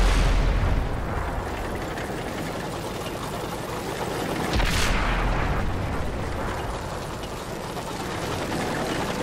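A cannon shot from a T32 American heavy tank in World of Tanks on Xbox 360: one loud, broad blast about midway, rising out of a dense, steady rumble of engine and battle noise.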